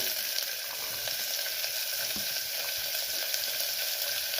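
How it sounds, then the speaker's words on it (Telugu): Urad dal and onions frying in hot oil make a dense, continuous close-up sizzle with a faint crackle that holds steady throughout. "మినపప్పు వేగిపోయిందండి, ఇదిగో చూడండి, చూసారా వేగిపోయింది."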